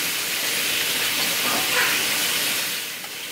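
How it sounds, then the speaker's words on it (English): Sliced bell pepper and red onion sizzle in a hot pan, a steady close hiss that swells slightly in the middle and eases toward the end, with no voices. "I prefer red onion, so I'm just going to throw that in my pan"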